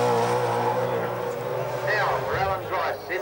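Holden Commodore race car at the 1990 Bathurst 1000 roaring loudly and continuously, its engine note shifting as it brakes hard into a corner, with commentary voices over it.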